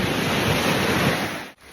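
Strong wind roars and sea waves break continuously on a rainy beach, loud and steady, with a brief sudden dropout near the end before the surf and gusts return.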